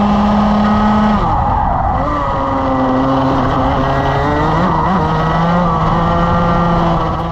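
A loud racing kart engine drones close by, its pitch dipping briefly as the kart bumps over a curb, then carrying on steadily.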